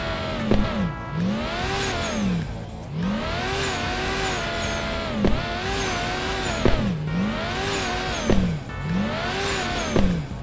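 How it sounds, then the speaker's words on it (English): A new car's engine in the Roblox Jailbreak video game revs repeatedly in rising and falling sweeps, looping every couple of seconds, loud and steady with faint tire squeal, no talking. "it's also got a really unique engine sound."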